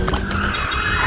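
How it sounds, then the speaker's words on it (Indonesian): A kidnapper's car speeds hurriedly toward a deserted spot, a loud close engine roar with a brief squeal, sounding continuously without any voices over it. "si penculik bergegas mengendarai mobil menuju ke tempat sepi"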